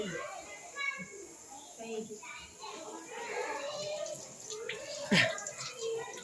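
Pre-primary children wash their hands with soap under running water, a soft steady splash and trickle under lively chatter from the kids and an adult.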